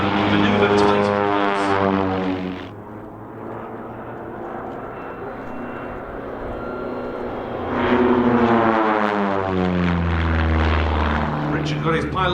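A small propeller aircraft manoeuvres tightly at the East Fortune airshow, its engine droning loudly as it passes close, fading a little, then swelling again with a changing pitch as it turns.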